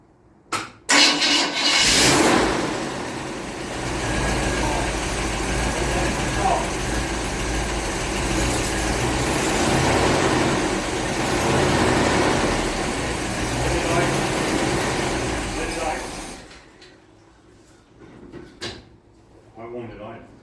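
A 1948 Ford truck engine rumbles steadily at idle for most of the stretch, loud and close, then cuts out abruptly, leaving quieter clunks and movement.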